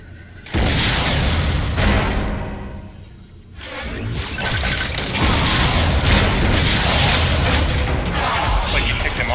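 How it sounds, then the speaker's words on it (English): A missile fired in the video game Metroid: Other M, followed by a loud, sustained booming explosion with mechanical rumbling and a brief dip before a second roaring burst. "Why not say hello with a missile?"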